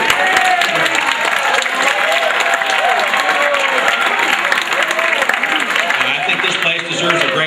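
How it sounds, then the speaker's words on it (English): An audience in a new school auditorium bursts into sustained applause, dense steady clapping filling the room for several seconds at even loudness. "deserves a great round of applause"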